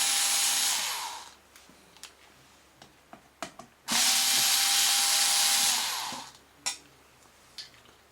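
Screws being taken out of the back panel of a radio case with a power tool: two long, loud whirring bursts separated by small clicks and taps of handling.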